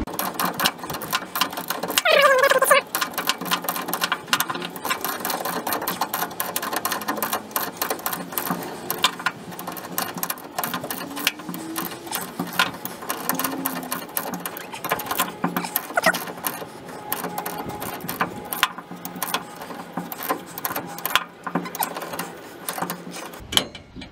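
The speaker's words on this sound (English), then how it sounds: "I'm just tightening it up with the ratchet, deep well socket 9/16" A ratchet with a 9/16 deep well socket tightens a rear shock bolt on a Ford F150, giving repeated close clicking bursts in an irregular rhythm, interrupted by brief pauses and handling noise.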